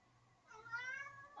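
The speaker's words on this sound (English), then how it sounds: "Oh no, kitties." A cat meows in the video game Jack the Ripper From the Red Fog: a single faint, drawn-out meow that wavers in pitch, heard alone over a low hum.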